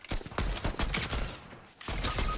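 Rapid gunfire in the video game Fortnite, a string of loud, close, sharp shots in quick succession with a brief gap before a final burst, no talk over it.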